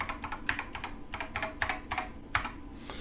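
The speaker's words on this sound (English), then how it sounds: "So let's try all the keys." Keys on a NABU computer keyboard pressed one after another during a keyboard test, a steady run of close, crisp plastic clicks and taps with uneven spacing and a few louder strikes.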